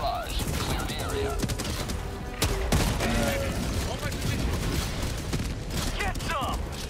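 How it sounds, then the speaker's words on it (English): Orbital barrage in Helldivers 2 pounds the area with dense, rolling blasts and rapid gunfire layered into a continuous loud roar, with game voices and other effects mixed in. "Orbital inbound! Firing orbital barrage."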